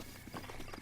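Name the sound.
horse hooves in video game Zelda: Breath of the Wild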